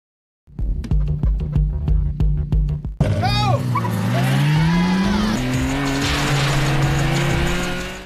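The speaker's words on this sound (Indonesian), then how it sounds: "Nissan GT-R yang unggul speed di jalan lurus meninggalkan Toyota AE86 milik Takumi." A Nissan GT-R and a Toyota AE86 race, opening with sharp rhythmic clicks, then loud engine roar rising in pitch as revs climb, with tire squeal and screeching skids layered over the steady drone.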